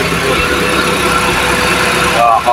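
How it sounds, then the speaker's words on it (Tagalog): A car engine swapped to a manual transmission idles in a steady, smooth hum, loud and close, while people talk over it. "Tingnan nyo kung gaano katahimik yung makina."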